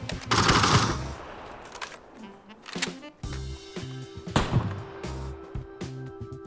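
Gunfire in PUBG rattles in several bursts of rapid shots, loud at first and then in shorter clusters, with a voice briefly heard among them.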